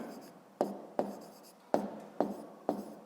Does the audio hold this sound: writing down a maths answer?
yes